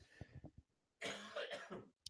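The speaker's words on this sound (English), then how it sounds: "sorry for all the coughing" A person coughs nearby, a few short throaty coughs followed by a longer, harsher fit of coughing, with brief quiet pauses between them.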